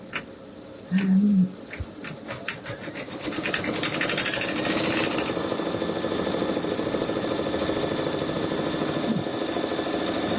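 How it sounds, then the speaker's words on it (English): Two Brother embroidery machines, a V5 and a Luminaire, stitching at once, giving a steady, close mechanical buzz that rises and then holds dense and continuous after a brief tonal beep near the start. "Two machines going at once now. Hope it's not too noisy for you."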